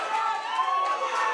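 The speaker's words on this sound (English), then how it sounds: "This crowd imploring McCarthy to keep going" A crowd at a USC versus Clemson club boxing match roars steadily, a dense, sustained wall of cheering and shouting with no pauses.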